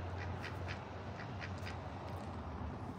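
Ducks on a pond quack repeatedly in a loose cluster of calls over steady outdoor background noise, moderately close, with no talking.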